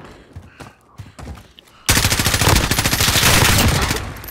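Call of Duty Modern Warfare gunfire: a few scattered, distant-sounding shots, then a loud sustained burst of rapid automatic fire that continues steadily to the end.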